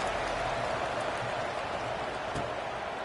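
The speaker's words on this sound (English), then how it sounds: "this crowd is buzzing after that last score" A football stadium crowd at a UMass game keeps up a steady, loud, dense roar right after a score, an unbroken wash of cheering with a faint swell of applause near the end.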